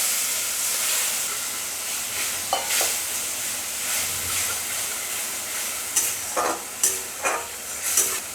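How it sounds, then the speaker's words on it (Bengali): Masala paste of turmeric and spices sizzling in a pan with a splash of water, a steady frying hiss with scraping stirs and a few louder spoon knocks near the end. "এই জল দিয়ে মশলাটাকে কষিয়ে নেব"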